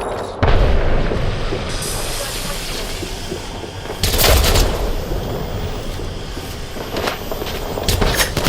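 Grenade blasts in a video game shooter: a loud, close boom near the start and another sharp explosion midway, over constant gunfire and battle rumble, with brief shouted callouts.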